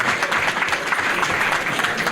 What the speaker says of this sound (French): Bon applaudit.